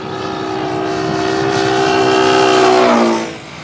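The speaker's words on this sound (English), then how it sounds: "Now listen carefully to the sound of the engine." A fast vehicle's engine roars past, loud and steady, its droning tone sliding downward in pitch as it moves away before fading near the end.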